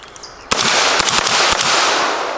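A 5.56 rifle fires through a Flow 556K suppressor, with several loud, sharp suppressed shots in quick succession over a sustained outdoor wash and echo.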